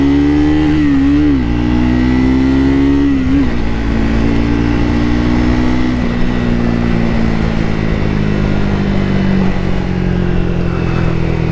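A single-cylinder motorcycle, a Daytona Tiger, accelerates hard with a loud, steady engine note that climbs and shifts pitch as it pulls away, close and continuous with no talking.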